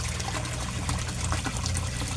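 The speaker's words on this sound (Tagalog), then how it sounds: "Ang lakas-lakas pa ng air pump" A koi pond air pump bubbling water, a constant dense fizz of bubbles with a low steady hum underneath, close and continuous with no break.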